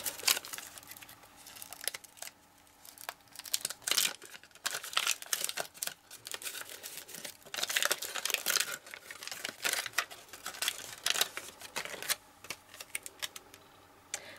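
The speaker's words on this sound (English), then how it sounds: "I could just rip it off like that and crinkle it up before I get started" Self-adhesive tape ripped off and crumpled up by hand for a faux metal craft technique, a dense continuous run of close crinkling, crackling and tearing noises with bursts of louder activity and no talking.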